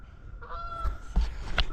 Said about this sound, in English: geese, they're flying.